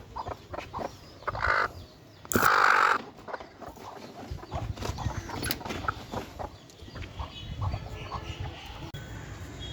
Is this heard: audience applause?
no